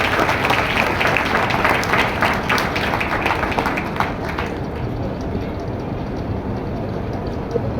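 Congregation clapping loudly at a Sunday church service, dense applause filling the room for several seconds before easing into a softer crowd murmur.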